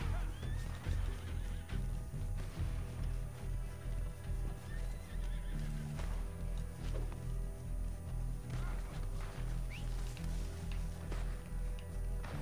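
A horse in Red Dead Redemption 2 whinnies loudly and near over steady clip-clopping hooves, with several neighs spread across the stretch of hoofbeats.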